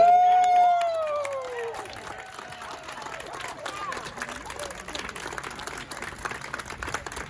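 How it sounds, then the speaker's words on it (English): A crowd at a Hispanic Heritage Month city event in Lexington, North Carolina, applauds after the national anthem: the sung final note fades into sustained clapping and scattered cheers that continue at an even level throughout. "let's give them another hand clap"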